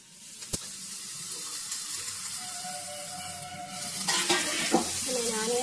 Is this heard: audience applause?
no